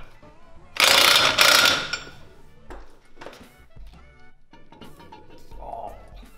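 A ratchet tightens wheel nuts on a Mazda fitted with Rotiform wheels, giving a loud burst of rapid clicking near the start followed by quieter clicks, clunks and light handling noises, with brief talk nearby.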